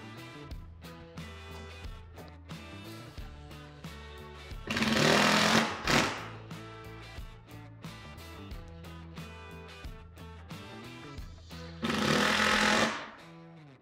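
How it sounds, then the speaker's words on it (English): A power driver sinks Torx-drive heavy duty decking screws into a workbench in two loud, sustained whirring bursts, each about a second long, over steady background music. "We're gonna use some Torx driven heavy duty decking screws, and we're simply just going to attach it to our workbench."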